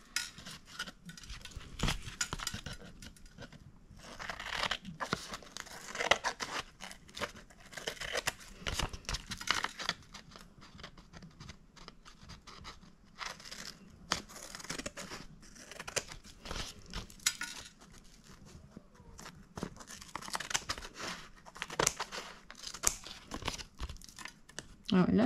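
Scissors cut through paper for a junk-style photo album, with crisp snipping and rustling crinkles of paper, close and moderately loud, scattered through the clip while someone talks over it.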